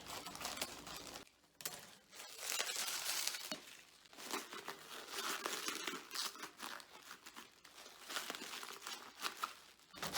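Bubble wrap being handled and cut into two pieces while packing breakable glass items for shipping, with close, continuous crinkling and rustling in irregular bursts and a brief quieter gap near the start.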